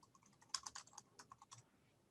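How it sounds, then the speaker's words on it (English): Quick bursts of typing on a computer keyboard, soft and close, with a rapid run of key clicks that trails off into a few scattered taps. "So I'm typing coolest guy."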